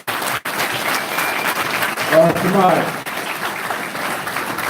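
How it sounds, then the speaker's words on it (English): A round of applause at a Hebrew summit gathering, a steady wash of clapping from an audience while someone speaks over it briefly. "give the brothers a round of applause again"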